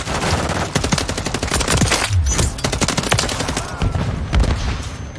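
Rapid automatic gunfire from Call of Duty Modern Warfare 3 multiplayer, with dense, overlapping bursts and single shots crackling continuously at close range.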